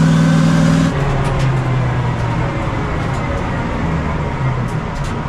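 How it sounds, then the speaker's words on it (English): A truck-pulling rig's engine drones loud and close in a heavy, continuous low rumble during a competition pass, steady throughout with a slight shift in pitch early on. "the tail truck is running great today"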